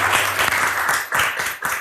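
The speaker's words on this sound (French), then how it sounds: "On peut les applaudir bien fort, s'il vous plaît." A studio audience at a Mauritian television game show claps for a team, with bursts of brisk applause that swell, dip briefly and pick up again.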